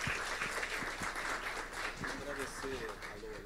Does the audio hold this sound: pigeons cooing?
no